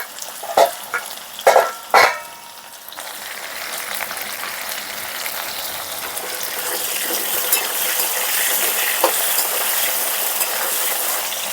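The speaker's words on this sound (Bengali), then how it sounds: "একটু সামান্য লবণ দিয়ে আলুটা ভেজে নেব লাল করে" Potatoes fry with a little salt in a pan for potol aloo kosha, opening with three sharp clattering knocks of utensils, then a steady sizzle that gradually builds and fills the rest, no voices.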